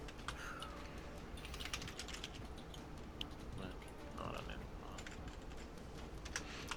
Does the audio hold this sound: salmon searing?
no